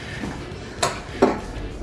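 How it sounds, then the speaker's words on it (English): A metal spoon set into a vegan root beer float gives two short, close clinks against the glass, with quiet room tone in between. "And I'm gonna put a spoon in there."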